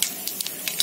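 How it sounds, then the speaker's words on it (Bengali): Whole cumin seeds hit hot oil, giving a brief close hiss and sputtering crackle with a few sharp pops, no speech. "তেলটা গরম হয়ে গেছে, এবার একটু গোটা জিরে দিই"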